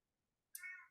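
A cat gives one short, clear meow behind a door, rising out of near silence halfway through, faint and somewhat distant, with no talk.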